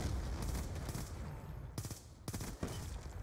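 An M8 rifle in Black Ops 2 fires in bursts, with sharp clustered gunshot reports breaking up a constant dense background of game noise, fairly distant and muffled.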